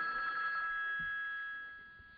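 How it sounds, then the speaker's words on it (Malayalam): A telephone rings with a steady, faint electronic tone that sustains unbroken and then fades slightly, heard during a stage skit at a Malayalam Pentecostal church anniversary event in Sydney. "എടി ഫോൺ എടുക്കടി, കടന്നാടിക്കുന്നത് കണ്ടില്ലേ?"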